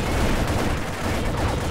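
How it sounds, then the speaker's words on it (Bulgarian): Rapid gunfire in a Bulgarian-played online war game featuring tanks and an M60, a loud continuous barrage of shots filling the whole moment without pause. "Оп, Джема, стреляй"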